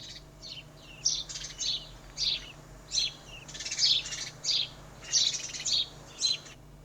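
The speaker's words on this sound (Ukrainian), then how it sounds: "А тепер послухайте горобчика." Short, high sparrow chirps repeat in quick bursts, about a dozen spaced irregularly, fairly faint against a quiet background.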